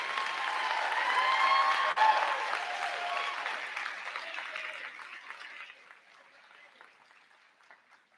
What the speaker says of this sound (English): Can we have one more round of applause for the phenomenal Wendy Bellino?